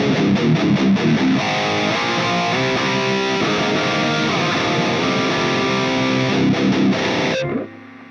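An electric guitar played through a Mooer GE200 distortion patch chugs out thick, loud, saturated chords and riffs without pause, then cuts off abruptly near the end, leaving a faint tail.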